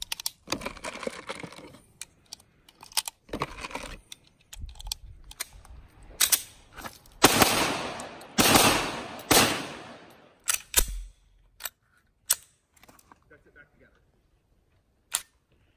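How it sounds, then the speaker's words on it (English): SIG Sauer P320 Compact .45 pistol firing, a string of sharp loud reports in irregular bursts, with a voice speaking between shots. "So I'm going to stop talking and we're going to get some shooting footage in."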